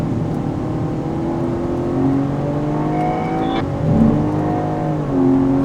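A car runs hard on a track on Hoosier street tires, with a continuous engine drone whose pitch slides and shifts as it revs and eases, and a sharp click near the middle.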